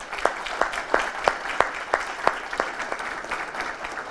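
An audience applauds at an IT conference, a quiet, fairly even run of rhythmic claps that lasts a few seconds.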